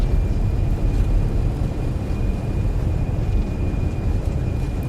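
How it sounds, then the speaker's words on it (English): Airbus A320 on full reverse thrust during landing in a flight simulator game: a loud, continuous roaring rumble with a faint steady high tone, with no talking. "Go full reversers."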